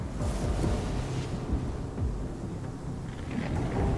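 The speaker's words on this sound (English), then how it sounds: "It's just the rain." Steady rain with low rumbling thunder rolling underneath in a video game, continuous and fairly loud, with no voices.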